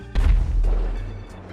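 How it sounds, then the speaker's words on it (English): A single deep boom from outside an interior in GTA 5, set off by a large plane despawning nearby, landing with a thudding hit and a short low rumble that fades away. "When inside interiors, you may occasionally hear an unexplained explosion outside."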